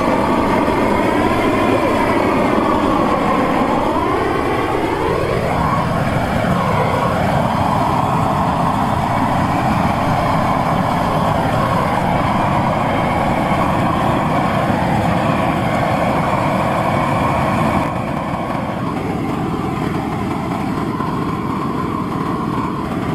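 Propane torch fed from a grill tank, burning gas outdoors while lighting a burn pile of pine needles and small twigs: a loud, steady roaring hiss that holds continuously throughout, shifting slightly in tone partway through.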